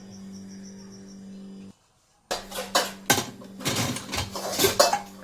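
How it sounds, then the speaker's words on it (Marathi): A pressure cooker holding dal and water has its metal lid fitted on with several sharp clanks and scraping rattles after a brief silence, following a steady low hum. "आणि कुकरला झाकण लावून देऊ."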